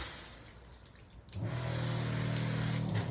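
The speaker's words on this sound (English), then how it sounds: "if I flood it with water, like if I'm as if I were in a rainstorm here" Water flooding over the painted surface of a Lexus RX350 to rinse off hard water spots, a steady loud rushing spray starting abruptly after a quieter moment and continuing to the end.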